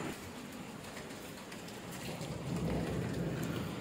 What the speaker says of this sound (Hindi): तेज आंधी के साथ तेज बारिश